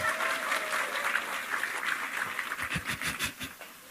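Applause from a women's religious study gathering in Parakan, steady dense clapping across the whole stretch, thinning toward the end into a few louder individual claps.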